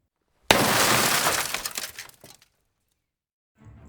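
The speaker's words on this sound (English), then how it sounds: "The glass smashed," A glass window smashes as a sound effect in a sci-fi story: a sudden loud crash followed by about two seconds of scattering, tinkling shards that thin out, then near silence.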